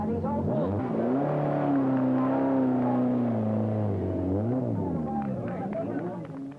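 Opel Ascona rally car in the 1974 Burmah Rally, engine note rising and sweeping in pitch as it pulls away from the start, loud and close throughout, with crowd chatter underneath.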